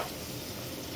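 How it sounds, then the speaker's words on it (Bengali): Onion and green chili frying with salt in a pan give a steady, close, dense sizzle that holds evenly throughout, with no voices. "পেঁয়াজটা একটু বেজে নিব"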